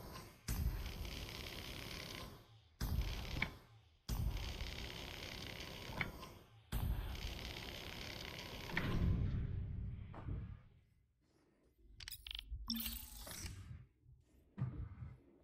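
A cutter tool slicing into an access hatch in a space-station game: long grinding, ratcheting mechanical bursts broken by short pauses, then fainter clanks and scrapes as the cut finishes.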